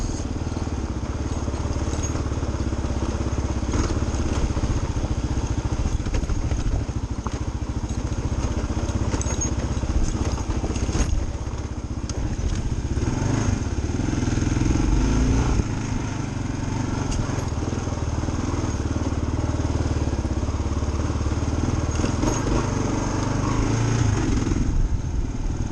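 A 2023 Kawasaki KLR 650 Adventure, a fuel-injected 650 single, rides over rocky Wyoming terrain with a continuous engine drone and rumbling wind noise throughout, loud and steady, with no talk.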